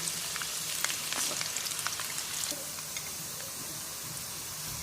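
Finely chopped onion, one large one, sizzles steadily in hot oil in a home kitchen, a dense crackling frying hiss with scattered sharper pops, fairly loud and close, no voices.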